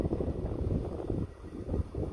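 Wind buffets a microphone outdoors beside a 2017 VW Tiguan, a rough, low rumble that gusts continuously and drops briefly partway through, with no voices.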